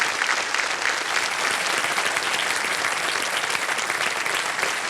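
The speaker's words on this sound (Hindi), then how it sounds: "आपके साथ जितने आए हैं सब ताली बजा रहे हैं खड़े होकर।" A standing studio audience on the KBC game show applauds continuously for a contestant, a dense, steady wash of clapping that fills the whole clip with no talk over it.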